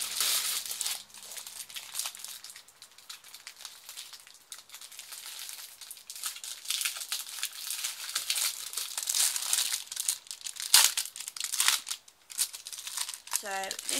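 Crinkling and rustling of plastic packaging on a neatly wrapped craft-supply parcel, close and continuous with uneven bursts of crackle, and a brief higher squeak near the end.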